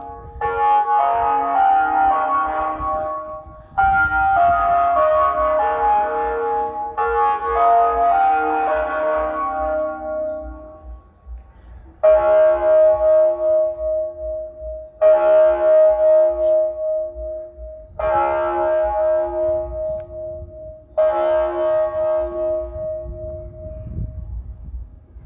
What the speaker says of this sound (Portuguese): E essa foi a batida do sino, coincidentemente, a hora que eu estava gravando.